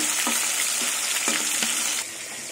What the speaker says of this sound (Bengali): এবার মাছের মাথাগুলো উল্টে দেবো। আর প্রচন্ড ফাটছে।